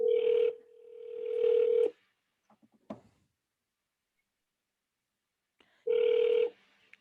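Telephone tones from live sales-lead dialing: a steady ringback tone pulses twice, a few short dialing clicks and beeps follow, then silence before another ring tone sounds near the end, fairly faint and with no talk.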